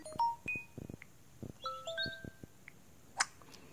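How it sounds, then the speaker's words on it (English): On an LG Stylo 3 smartphone, several short electronic notification tones play in quick succession, clean chimes and beeps previewed one after another, quiet and close with brief gaps and a brighter ping near the end. "You set a different kind of notification sound."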